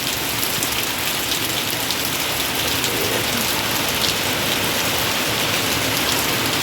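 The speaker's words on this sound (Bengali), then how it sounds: "দেখো কি জোরে পড়ছে বৃষ্টিটা" Heavy rain pours down in a loud, dense and unbroken wash of drops hitting surfaces close by, holding the same intensity from start to finish.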